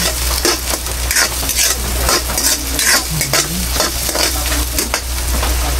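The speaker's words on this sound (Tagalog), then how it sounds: "Yan, bawang. Mix lang natin yan." Garlic being stirred in a frying pan, loud continuous sizzling with repeated scraping and clinking of a utensil against the pan, close up and without talk.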